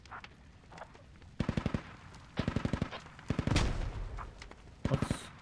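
Rapid automatic gunfire rattles in short bursts in a tournament match of a team shooter video game, with several volleys of fast, evenly spaced shots and a louder blast midway.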